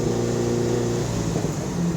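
A track-ready 1976 Alfa Romeo GTAm engine drones steadily under way, a smooth, moderately loud hum from inside the car, unbroken and without talk.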